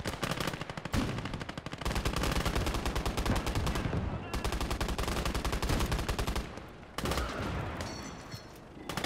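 Dense battlefield gunfire in the Eastern Front war game Gates of Hell: Ostfront, with long rapid automatic bursts hammering almost continuously, loud and close, broken by a few brief pauses and distant crackling shots.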